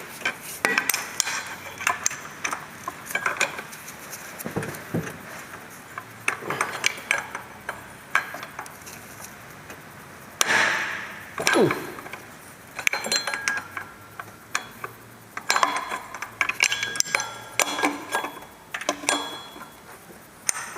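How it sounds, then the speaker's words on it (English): Ratchet with a 17 mm socket clicking and clanking against the cam pulley of a 2007 Toyota Sienna 3.3L V6, with scattered metallic taps and tool clinks in irregular bursts, close but fairly quiet. "I got the special tool for holding the cam pulley in place and a 17 millimeter socket on a ratchet."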